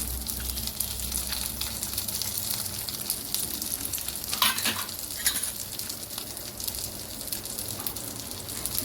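Fish pieces frying in a pan for a crispy fish fry give a steady, fairly quiet sizzle and crackle that continues evenly throughout, with a few faint stirring sounds and no talking.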